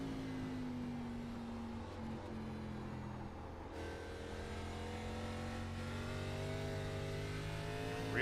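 An ARCA stock car engine in a racing video game at North Wilkesboro holds a steady drone, dips briefly, then climbs in pitch as it accelerates out of a corner. The engine sounds loud and close, with no talking.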